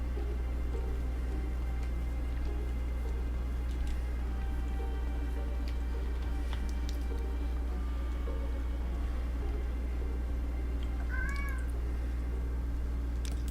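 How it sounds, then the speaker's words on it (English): A domestic cat meows faintly once near the end, a short rising call heard far off over a steady low hum and room noise. "I wonder if chat can hear our cat."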